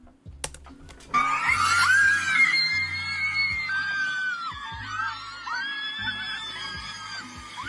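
Screams rise suddenly from a group of people after a gender reveal plane crash, sustained and shrill for several seconds, with tapping, keyboard-like clicks running underneath throughout.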